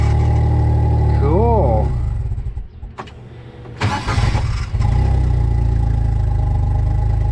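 Engine cranking and firing up, then settling into a steady, loud low idle close by, with someone speaking briefly before and during the start.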